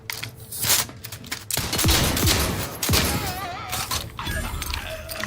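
Gunfire from weapons such as a shotgun in the video game The Outer Worlds 2, loud sharp blasts and bursts mixed with impacts and game effects.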